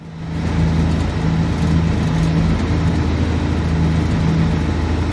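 A steady, low truck engine hum from inside the cab in the video game Alaskan Road Truckers, constant and even with slight tonal shifts, no voices.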